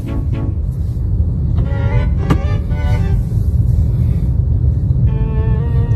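Road traffic in La Union, Philippines heard from inside a car, a steady low engine rumble with cars passing nearby and a short horn toot partway through.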